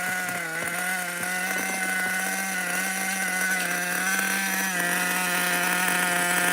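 A nitro RC car engine screams steadily at high revs, a constant buzzing whine with strong harmonics that holds throughout, as if running on its 2-speed transmission, heard from a moderate distance with no talk.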